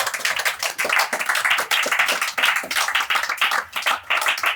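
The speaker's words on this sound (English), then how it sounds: "So can we give her a standing ovation and a clap as she comes?" A standing ovation at a graduation ceremony: a crowd claps in fairly rhythmic, pulsing bursts, fast and steady throughout.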